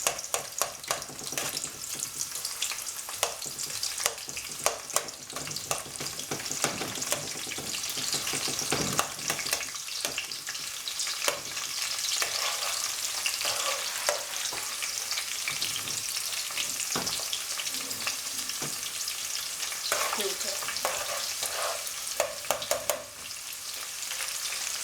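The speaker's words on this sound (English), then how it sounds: "what I'm going to do is add in my onion and let him fry a bit" Chopped onion frying in hot oil, a loud continuous sizzle with crackle and occasional stirring scrapes, steady for the whole stretch with no talking.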